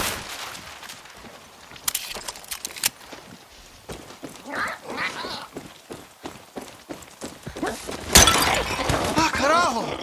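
Clay pots shattering in the open-world shooter Far Cry 6, a few crisp breaking crashes among running footsteps, with a loud burst near the end and a voice talking throughout.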